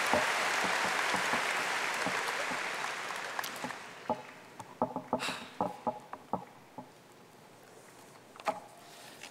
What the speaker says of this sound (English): let's give a round of applause to our interim superintendent over there